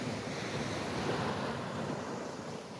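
Calm sea washing onto the Holderness coast at Withernsea on a quiet morning, a soft steady surf hiss with light wind noise on the microphone, no voices.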